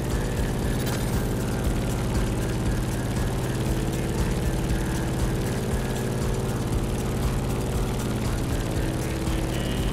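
A propeller airplane in The Crew Motorfest drones steadily with a loud, continuous engine hum and no pauses.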